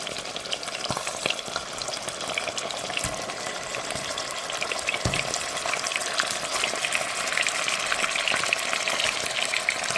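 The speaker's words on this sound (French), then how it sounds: "Dans une casserole avec 2 cuillères à soupe d'huile, je rajoute là mon poulet" Chicken sizzles and crackles loudly in hot oil in a pot, a constant frying hiss with a few scraping stirs along the way.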